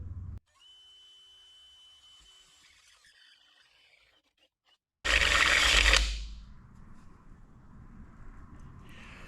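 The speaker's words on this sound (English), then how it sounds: "where we're gonna drill it. Just gonna use a step bit." A drill whirs with a thin whine, then a loud, brief grinding burst as a step bit cuts, followed by a lower, rough rasping.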